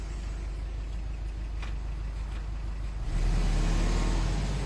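A 225-horsepower Subaru Impreza with all-wheel drive runs steadily at a near distance, and its engine swells into a louder, deeper rev partway through.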